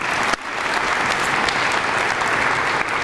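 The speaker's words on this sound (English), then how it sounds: "Can we give them a round of applause?" An audience at a school district recognition event breaks into loud, sustained applause, a steady wash of clapping heard on its own.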